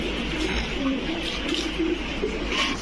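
Army pigeons, a running breeding pair, coo in low repeated murmurs close by, the throaty calls rising and falling over a constant background rumble.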